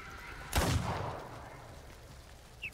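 A single sharp gunshot from the video game The Thaumaturge cracks out loudly, then trails into a fading rumble, followed by a brief faint chime near the end.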